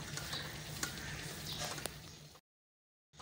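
Coarse chakki wheat flour is stirred and roasted in a pan for halwa, giving a soft, even sizzle with a few faint scraping ticks before a brief silence.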